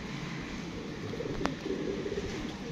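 Pet pigeons kept by a fancier coo softly and steadily at close range, with a faint rustle and one sharp click partway through.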